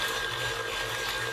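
A hand mixer beats whipped body butter in a bowl at rising speed, giving a steady, continuous motor whir with a low hum that stays even and fairly close throughout, with no voices.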